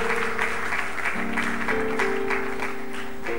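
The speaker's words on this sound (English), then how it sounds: "Let's give her a round of applause." Audience applause after a health talk, a steady, even patter of many hands clapping at moderate volume, with sustained musical tones running underneath throughout.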